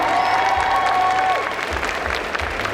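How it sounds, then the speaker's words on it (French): Audience applause at a cosplay contest during a convention prize announcement, a sustained crowd wash filling the whole stretch, with a faint electronic tone running beneath the first half. "On applaudit très fort."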